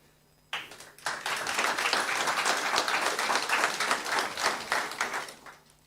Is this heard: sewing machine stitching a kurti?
no